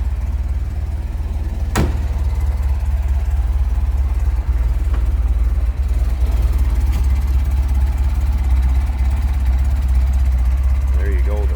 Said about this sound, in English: There you go, the Ferrari 3-liter V8.